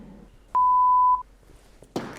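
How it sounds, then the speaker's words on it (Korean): A single clean electronic beep from a voicemail system holds at one steady pitch for about half a second, loud and close, followed by a short burst of noise. "삐 소리 이후 음성 사서함으로 연결됩니다."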